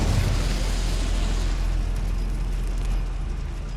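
Incendio fire spell bursting in Hogwarts Legacy, a loud roaring whoosh with deep booming low end that holds steady for several seconds before easing slightly.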